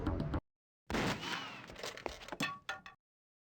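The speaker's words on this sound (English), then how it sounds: "that sounds like gunfire" Gunfire in the PC video game Urban Runner: a sudden loud burst of crackling shots after a brief silence, followed by scattered sharp cracks and thumps that trail off within a few seconds.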